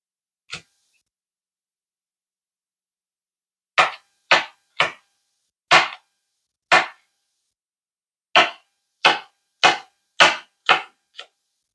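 Knife chopping a bell pepper on a cutting board in a home kitchen, a lone thud near the start followed by two bursts of sharp, close, irregular chops with brief pauses between.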